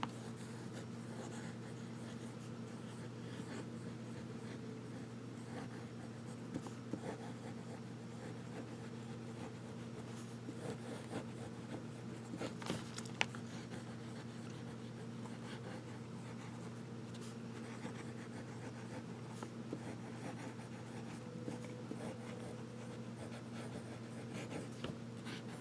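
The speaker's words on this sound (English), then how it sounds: "And we'll do some writing." A fountain pen scratches downstrokes and cross strokes across paper, a faint, continuous dry scraping close by with occasional small ticks, over a steady low room hum.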